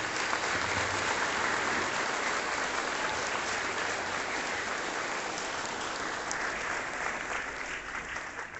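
Loud, sustained applause from a school event audience at an interbachillerato gathering in Ciénega de Zimatlán, a dense wash of clapping that holds steady throughout and tapers slightly at the end.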